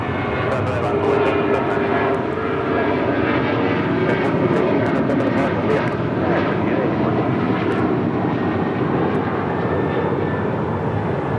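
An airliner taking off from runway 25 right at LAX, its engines roaring loud and steady throughout with a broad rumbling wash, while radio chatter from the control tower runs underneath.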